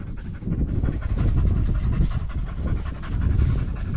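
Close, rapid dog panting in a steady rhythmic huff that continues for several seconds with no pauses.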